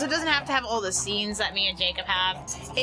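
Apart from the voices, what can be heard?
No everyday noises stand out.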